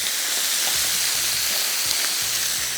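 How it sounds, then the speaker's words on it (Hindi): Chicken for pasta fries gently in a pan, giving a steady, fairly loud sizzling hiss with faint low bumps beneath it and no talking. "ये शामिल करने के बाद इसको हमने हल्का सा करना है फ्राई, थोड़ा सा फ्राई करेंगे"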